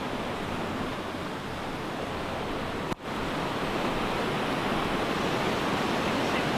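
A broad, steady rush of falling water from the Burnside of Duntrune waterfall, continuous and fairly loud, with a single brief knock partway through.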